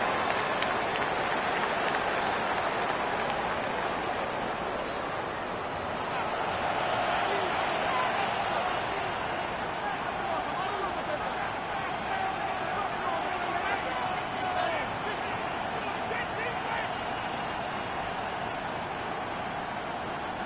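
Crowd in the Madden American football video game, Cowboys matchup, building toward a third down: a steady, dense stadium roar with rising swells of cheering, continuous throughout.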